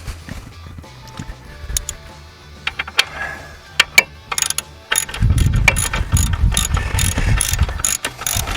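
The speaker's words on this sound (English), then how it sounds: "Just gonna put the ratchet on." A ratchet turns a brake caliper bolt on a 2011 Chevy Equinox, first with scattered sharp clicks and clanks, then a loud, fast, continuous run of ratcheting clicks close by.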